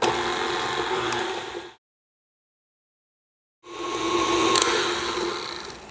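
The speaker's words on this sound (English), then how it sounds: "Now we'll mix this together." An electric hand mixer beats an egg and vanilla into peanut butter cookie dough, whirring loudly and steadily up close, stopping for a couple of seconds before starting up again.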